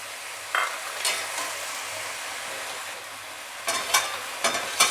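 Spinach, aubergine and peas stir-frying in a pan give a steady close sizzle, with a few louder scraping stirs near the start and a cluster of sharper stirring scrapes toward the end.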